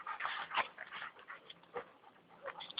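A dog whimpers and pants close by, soft whining breaths coming in uneven bursts with quiet gaps between them.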